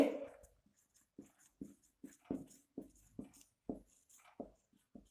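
Chalk or marker tapping and scratching on a classroom board, a series of about a dozen short, separate strokes at an uneven rhythm, close and fairly quiet, with no talking.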